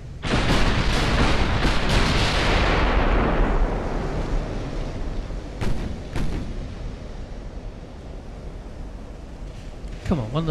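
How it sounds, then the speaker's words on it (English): Naval gunfire from the Ultimate Admiral video game, with the battlecruiser Renown defending a convoy: loud, dense booming salvos and a rumbling roar at the start, settling into sustained low rumble with sharp later reports. "Being fired upon from over here as well."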